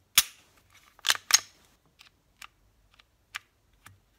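Crisp mechanical clicks from a standard Gen 3 Glock 17 pistol trigger being pulled and reset, a few louder snaps followed by softer scattered clicks, close and quiet otherwise.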